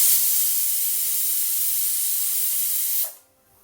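A pressure cooker on high flame vents a loud, continuous hiss of steam for about three seconds, then cuts off abruptly into near silence.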